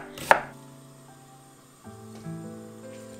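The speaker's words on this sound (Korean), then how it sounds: "양파는 4분의 1개 정도 썰어서 담아주세요." A knife chopping onion for a cold buckwheat noodle salad, a single sharp, close cut near the start followed by quiet kitchen sounds and a faint low hum.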